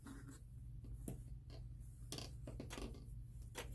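Scissors snipping white ribbon for Christmas bow making, a series of short sharp cuts and clicks at irregular intervals, close and fairly quiet with no talking.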